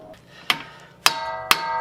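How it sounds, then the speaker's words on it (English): Three sharp metallic hammer strikes on a tool, loosening a part during a front brake job on a 2015 Hyundai Sonata, spaced about half a second apart, each ringing briefly before the next blow. "whack it with a hammer and see if we can bust this loose"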